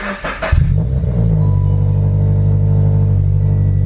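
A deep, steady exhaust rumble from a Subaru BRZ sports car with a louder modified exhaust, loud and close, settling into a constant idle drone after a brief rougher burst at the start.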